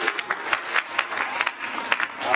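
A church congregation applauds the Lord during a Sunday worship service, with dense, steady clapping and sharper individual claps running throughout at a close, lively level.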